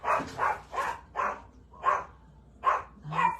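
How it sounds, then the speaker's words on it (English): A dog barks repeatedly in a steady series of sharp, loud barks, about seven in a row, close by with brief pauses between them. "He's barking at Favor."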